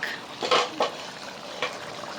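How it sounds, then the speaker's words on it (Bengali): Small puti and tilapia fish fry in hot oil in a pan, with a steady soft sizzle and a few sharp bursts of spatter or utensil clinks near the start and middle. "বিরিয়ানি রান্না শেষে এখন মাছ ভাজা হচ্ছে"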